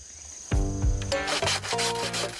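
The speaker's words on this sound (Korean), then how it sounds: "톱질 소리가 들려서 이쪽으로 왔거든요" A hand saw cuts bamboo outdoors in a bamboo grove with steady, close, rasping back-and-forth strokes that grind loudly and continuously after a brief pause at the start.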